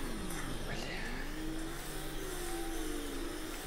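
Motorcycle engine in the Fortnite video game, a steady droning rev with rising and falling pitch sweeps, continuous and fairly loud over a dense game mix, without clear speech.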